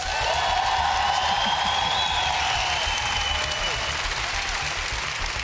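Audience applause and cheering cast as a vote in a boxing show, with clapping from tiered stands sustained at an even level, scattered whoops and whistles rising above it, and some voices mixed in.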